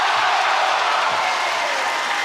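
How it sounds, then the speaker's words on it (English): Basketball arena crowd at a FIBA 3x3 World Cup game clapping and murmuring before a free throw, a steady dense wash of applause and crowd noise throughout. "The crowd is clapping"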